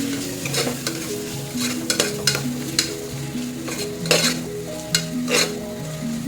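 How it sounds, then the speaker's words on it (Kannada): Mushroom gravy masala frying in a pan, a steady close sizzle broken by repeated scraping strokes of a spoon stirring through it, with no voices. "ಈಗ ಒಂದು ಅರ್ಧ ಸ್ಪೂನಷ್ಟು ಹಚ್ಚಿ ಇದನ್ನು ಚೆನ್ನಾಗಿ ಫ್ರೈ ಮಾಡ್ಕೋಬೇಕು"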